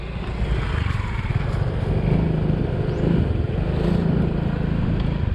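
Motorcycle engine running steadily nearby, a continuous low rumble that swells slightly at times, with no talk over it.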